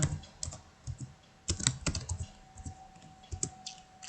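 Computer keyboard keys typed in short irregular bursts while entering a cheque number for a wages payment voucher in accounting software, with close, crisp clicks separated by brief pauses.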